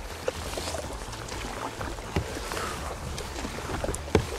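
Kayak paddle strokes pulling through water, a few soft splashes and swishes spaced out over steady wind and water noise, fairly close and moderately quiet.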